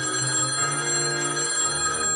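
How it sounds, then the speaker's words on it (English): A telephone bell rings in a steady, continuous trill, loud and close, with no voices over it. "The phone. Get it, will you?"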